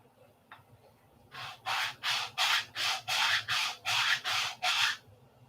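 Nine or ten rhythmic back-and-forth scrapes of a large sanding block on a P-47 model wing, evenly paced and close, after a brief quiet start.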